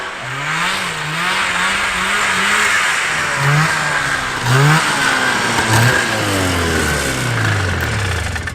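A vintage snowmobile engine labors and revs hard while pushing through deep snow, its pitch rising and falling in surges over a steady roar close to the microphone.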